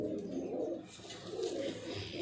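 A golden pigeon with red eyes coos in a low, rolling murmur, two sustained swells of sound close by and fairly soft.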